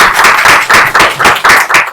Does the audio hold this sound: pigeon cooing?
no